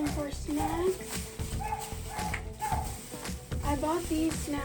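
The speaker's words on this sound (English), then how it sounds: "that's the neighbor's dog." A neighbor's dog barks and whines in repeated short yelps nearby, mixed with a voice speaking over the barking.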